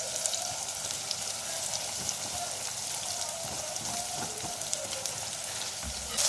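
Onions frying in very hot oil in a pan while being stirred, a steady dense sizzle and crackle that runs evenly throughout at moderate, fairly soft level.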